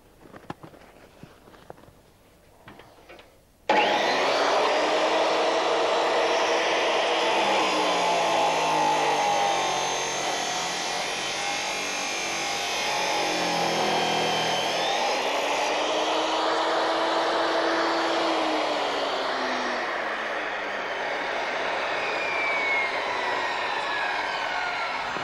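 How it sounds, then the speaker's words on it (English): A saw disc on a Triton work centre, set to full depth, cuts straight through a workpiece with a loud, sustained whining roar that starts abruptly after a quiet moment and holds steady, dipping briefly in pitch midway. "you can have the saw disc at full depth and just cut through as if you're cutting through a piece of wood"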